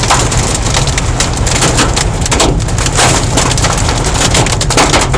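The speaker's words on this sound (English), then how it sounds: "Fucking hail. The size of a fucking ball." Large hailstones pelt down in a freak hailstorm, a dense, loud, continuous clatter and crackle of ice striking surfaces nearby, steady for the whole stretch with no voices.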